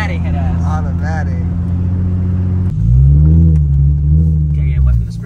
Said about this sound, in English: I'll do a spin out right now.